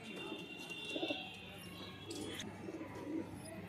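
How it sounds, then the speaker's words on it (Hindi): A pair of Saharanpuri Khaura pigeons cooing in low, throaty bursts, several soft coos repeating at an easy pace over steady background noise, fairly close. "बहुत ही उम्दा कबूतर आवाज है"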